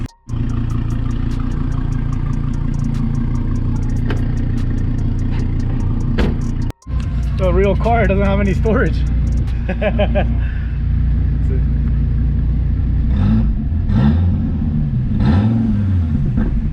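A Gen V Dodge Viper's engine idles with a deep, steady rumble up close, then revs and settles again, while someone talks over it in several stretches.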